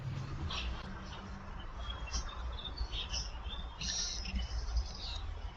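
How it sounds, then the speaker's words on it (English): Many budgerigars chirping and twittering in an aviary in a busy, overlapping chatter, fairly close, with a constant background hum underneath. "our budgerigars that are causing mischief back there in the bird aviary"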